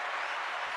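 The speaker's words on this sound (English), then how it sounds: "Round of applause for Miss Danforth." A brief burst of applause for a guest on a podcast, a dense, even wash of clapping hands, fairly faint and with no voices over it.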